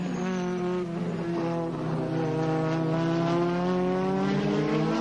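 Racing cars at Eastern Creek in 1992 roar steadily through the final lap of a Winfield Triple Challenge race, a loud sustained engine drone whose pitch rises gradually, with no talk.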